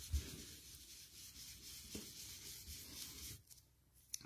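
A sanding block rubs across a paper card, giving a faint, continuous scratchy friction with slight strokes and a brief pause near the end.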